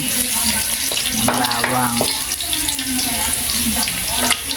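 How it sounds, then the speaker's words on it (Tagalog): Garlic sautéing in a wok-style pan, rinsed after frying potatoes, with a steady close sizzle of hot oil, metal scraping and stirring strokes, and a brief splash of water near the middle. "nagisa na tayo ng bawang"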